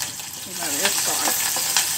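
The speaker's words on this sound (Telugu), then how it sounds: "ఇందులో ఈ పప్పును కొద్దిగా నూనెలో వేగనివ్వాలి." Moong dal fries in oil with mustard seeds, curry leaves and green chillies in a pressure cooker, a close crackling sizzle with scattered pops and stirring scrapes, a voice speaking over it.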